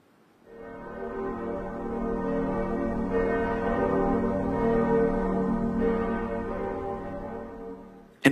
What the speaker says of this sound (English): Church bells can remind us of the passing of time or perhaps our own mortality.